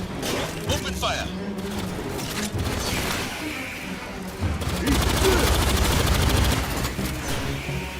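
Volleys of gunfire in the video game Total War Warhammer 40k, with rapid bursts rattling through the second half, mixed with game effects while a voice talks over it.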